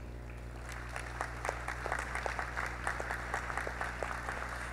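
Steady applause from an audience at a corporate social responsibility award ceremony, moderate and even, with individual claps distinct over a constant low hum in the room.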